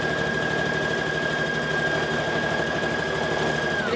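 A sewing machine stitches a seam for a Vogue 9345 garment, running continuously with a fast, even motor whir and needle rattle throughout.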